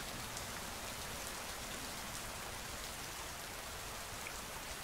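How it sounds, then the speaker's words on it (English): Steady, gentle rain falls and patters on surfaces as a soft, even wash of noise that holds for the whole stretch with no voices or thunder. "too gentle to be creating the combined noise of the rain."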